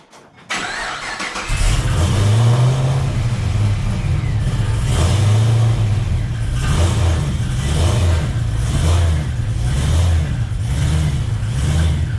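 A customized 2009 Pontiac G8 GT starts up and idles with a deep rumbling engine, then revs in a few swelling pulses as it pulls out of a garage, loud and close with no talking.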